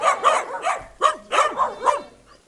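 A herding dog that guards a flock barks loudly and close by in quick bursts, about seven sharp barks separated by short pauses, with no talking.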